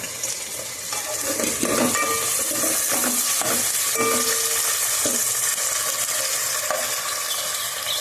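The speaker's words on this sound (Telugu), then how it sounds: "ఇప్పుడైతే ఉల్లిపాయలు బాగా వేయించుకుందాం కూరగాయలు కూడా వేస్తున్నాను" Onions with chopped elephant foot yam and brinjal fry in a pan for a tamarind stew, giving a continuous close sizzle broken by occasional stirring clanks.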